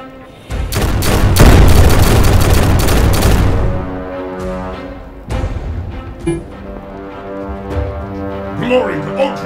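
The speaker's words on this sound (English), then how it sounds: "Opening fire!" Gunfire in The Horus Heresy: Betrayal at Calth, a loud dense burst of rapid shots and booms for a few seconds, then fading into scattered distant blasts under game music and voice lines.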